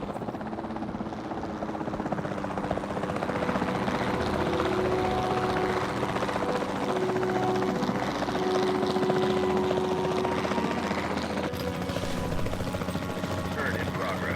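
Helicopter flying in the video game Jurassic World Evolution 2, a loud steady rotor drone with some engine hum running the whole time while people talk over it.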